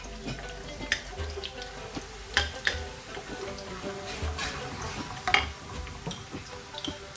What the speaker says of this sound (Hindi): कलवंजी और ये सौंफ के दाने डालूंगी। इनको थोड़ा सा करकराएंगे ताकि इनकी खुशबू आए।